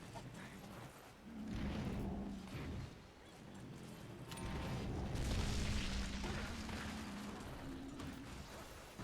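Small bombs going off in Monster Hunter Generations Ultimate, a run of low, rumbling booms rolling over several seconds amid game noise, fairly loud and without talk.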